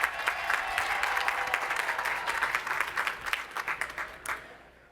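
A crowd at a university commencement applauds steadily, then the clapping thins to a few scattered claps and fades out at the end.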